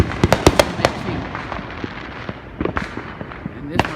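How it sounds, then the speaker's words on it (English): Neighborhood household fireworks burst in a rapid string of sharp cracks and pops for the 4th of July, loud and close at first, then sparser distant bangs, with people talking underneath. "all the rest of these are just neighborhood household fireworks"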